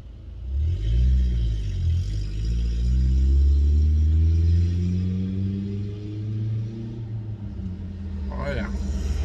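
A Ford Ranger with the catalytic converter cut off rumbles and revs nearby, a deep, loud exhaust drone that climbs and settles, with people talking over it.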